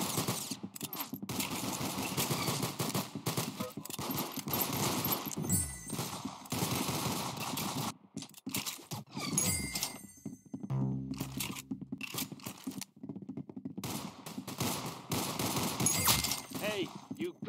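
Rapid gunfire from the shooter game Arsenal, dense bursts of shots and automatic fire running almost continuously with brief lulls, over game sounds and occasional speech.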